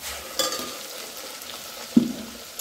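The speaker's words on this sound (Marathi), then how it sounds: "आता त्याच्यामध्ये आपण प्रथम थोडासा मसाला घालायचा" Spice masala fries with reddish-browned onion in oil for an egg masala, giving a steady soft sizzling hiss close by, with a brief clack from the pan midway.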